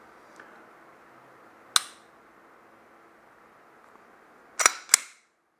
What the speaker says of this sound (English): Gun has fired.